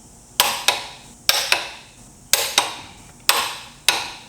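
Sharp ratcheting clicks from a torque wrench tightening titanium wheel studs on a McLaren supercar, arriving in close pairs at a steady rhythm, loud and near with no talk.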